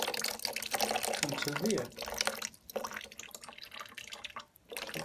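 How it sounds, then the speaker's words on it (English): Water drains through a siphon straw out of a PC watercooling reservoir, a steady trickling and dripping flow with small gurgles, close and fairly quiet, with someone talking briefly over it. "we've got the siphon working, the straw's in there, and it's emptying out"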